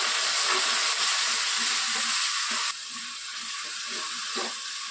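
Ginger garlic paste sizzles in hot oil for a Hyderabadi chicken biryani, a loud, steady, close-up hiss that drops noticeably in volume about halfway through and then keeps sputtering evenly on its own.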